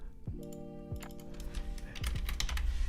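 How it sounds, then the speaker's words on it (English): Rapid clicky typing on a computer keyboard during home work, with irregular keystrokes and a steady low hum underneath, close and moderately loud, no voices. "excuse the keyboard things because I am working"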